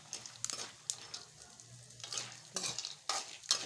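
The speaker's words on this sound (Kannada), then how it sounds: "ಪುಟಾಣಿ ಹಾಕಿ ಸ್ವಲ್ಪ ಹೊತ್ತು ಕಡ್ಡಾಡ್ಸ್ಬೇಕು ರೀ" Roasted gram is stirred in a tempering pan, giving a soft background sizzle broken by repeated quick scraping and rattling strokes of the spoon against the metal, close and fairly quiet.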